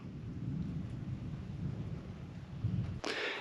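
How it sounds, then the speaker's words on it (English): Low, continuous rumble of distant thunder over a cotton and soybean farm, rolling beneath steady background noise, with a brief sharp rustle near the end. "I can hear thundering in the background."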